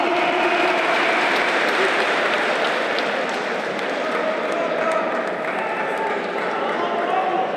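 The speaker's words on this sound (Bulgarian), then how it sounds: "Аплодисменти, е дами и господа!" Sustained crowd applause and cheering at a flyweight 57 kg bout between Bulgaria and Greece, filling the whole stretch at a loud, steady level while an announcer's voice talks over it.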